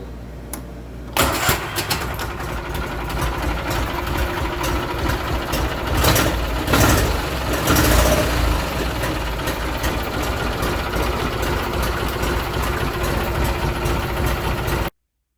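An Argo ATV engine cranks and fires up without choke, then settles into a steady, loud idle that runs close by for the rest of the clip, with no talking.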